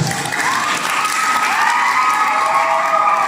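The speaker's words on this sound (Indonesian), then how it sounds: "Tepuk tangan untuk jemaat Hermon Magasa." Loud applause and cheering rise from a church congregation at a children's camp closing, with children's shouts mixed into the continuous clapping throughout.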